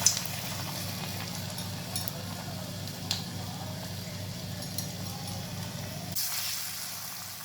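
Vadai balls deep-frying in hot oil, a steady close bubbling sizzle that continues throughout and eases near the end.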